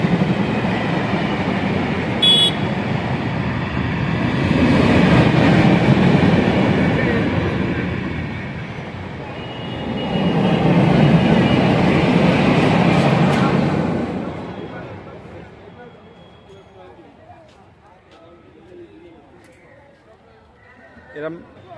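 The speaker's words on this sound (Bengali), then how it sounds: "ওপর দিয়ে দেখুন ট্রেন যাচ্ছে" A train rumbles across an overhead track beside a fair, swelling loud twice as carriages pass, then fading away, with voices from the crowd in the background.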